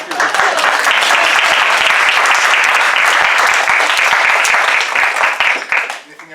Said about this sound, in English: We were going to applaud for Lucinda, but you stopped us right now.